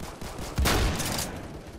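A burst of shotgun fire in a Roblox shooter game, one loud blast rising sharply and then ringing out for about half a second against steady game background noise.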